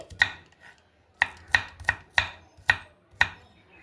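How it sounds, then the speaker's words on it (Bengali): A knife chops a peeled onion into small pieces on a board, seven crisp, distinct chops in an uneven rhythm, close and clear with no talk. "এরপর পেঁয়াজটাও আমি ছোট ছোট এইভাবে কেটে নিচ্ছি।"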